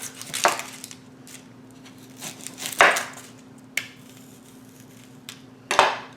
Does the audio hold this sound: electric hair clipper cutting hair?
no